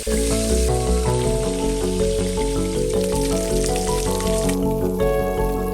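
Koi fish frying in hot oil in a Bengali kitchen, a steady crackling sizzle that runs the whole time beneath loud melodic background music.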